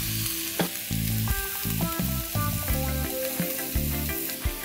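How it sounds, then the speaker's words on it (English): Chopped tomatoes, salt and spices go into a pan of squid masala and fry with a loud, steady sizzle. Stirring clatters in the foreground as the pan keeps crackling. "Time to add in chopped tomatoes. Salt and spices."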